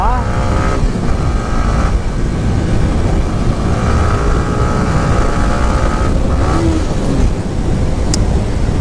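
A Yamaha R15 v3 sports motorcycle engine hums steadily while riding, with continuous wind and road noise over a low drone and some faint shifts in pitch, under a voice.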